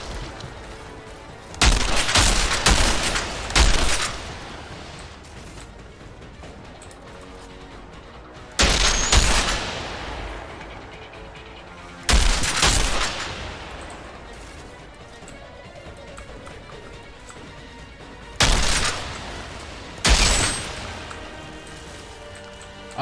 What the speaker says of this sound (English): These toxic shells just chew through people, though.